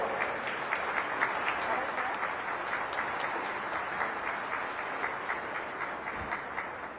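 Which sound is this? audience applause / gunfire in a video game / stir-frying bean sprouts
audience applause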